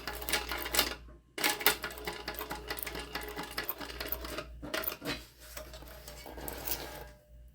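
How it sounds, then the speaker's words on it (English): Sewing machine stitching through the tabs of a tote bag, with steady rapid mechanical whirring and needle clatter in bursts separated by brief pauses, close and fairly loud. "I'm going to stitch as close to that line on the tab as possible"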